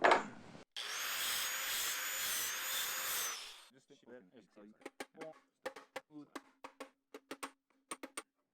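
Relief cuts made in the sheet-metal heater box of a lowered VW Beetle, heard as a steady, loud grinding whine for about three seconds, followed by a string of sharp, separate clicks and metallic taps.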